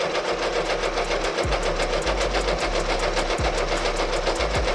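An embroidery sewing machine sews a satin stitch applique, giving a steady, fast mechanical whir with soft repeated clatter and a few low thumps, running close and continuous throughout.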